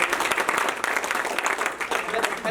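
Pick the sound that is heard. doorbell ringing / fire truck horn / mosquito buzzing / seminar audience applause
seminar audience applause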